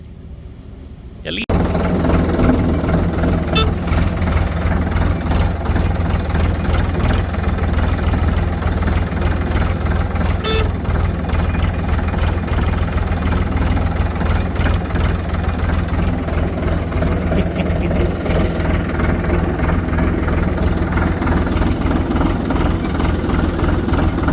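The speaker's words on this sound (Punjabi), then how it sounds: "ਟਰੈਕਟਰ ਤੇ ਰਾਈਡ ਲੈਣ ਚਲੀਏ" A tractor engine idles loudly and steadily after a brief quiet start, its low rumbling chug continuing unbroken throughout.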